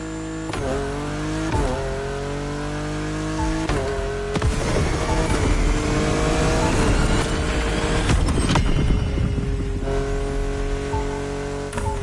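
A car's engine revs repeatedly at a drag racing spot on an island runway in The Crew Motorfest, loud and close, climbing and dropping in pitch through several throttle blips and gear changes over a steady roar.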